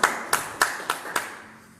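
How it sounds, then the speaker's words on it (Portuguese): Congregation at an evangelical church service in Olhão, Portugal, claps five sharp, evenly spaced times, the claps close and distinct with a short decay after each. "Quem entendeu aqui, palmas para Jesus."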